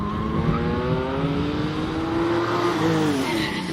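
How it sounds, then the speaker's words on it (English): A classic Porsche 911E on a hillclimb run at Loton Park revs hard, its engine note rising steadily through the gears, loud and continuous with a faint squeal near the end. "Yeah, great sound from that little Porsche."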